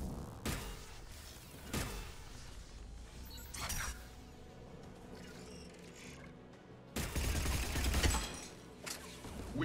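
Guns protecting a tower firing in Mass Effect 3, sharp bursts and booming shots spaced out over a rumbling background, one heavier volley near the end.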